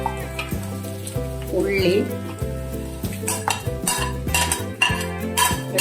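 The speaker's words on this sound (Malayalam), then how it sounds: "വെളുത്തുള്ളി എല്ലാം ഇട്ട് ഒന്ന് ഇളക്കാം" Beef fry stirring in a pan with coconut, onion and garlic, a metal spoon clinking and scraping against the pan in steady rhythmic strokes over a soft sizzle, with background music playing throughout.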